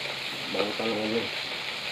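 Dried fish (tuyo) fries in cooking oil with a steady, faint hiss of sizzling, and a voice speaks briefly over it.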